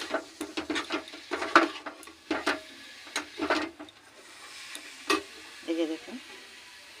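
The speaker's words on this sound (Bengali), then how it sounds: "ফুলকপি আলু আমি একসাথে ভেজে রেখেছিলাম। এখন অল্প সময় নাড়াচাড়া করে" Fried cauliflower and potato stirred in a pan, with scraping and clattering strokes at an uneven pace over a light sizzle, while someone talks in between.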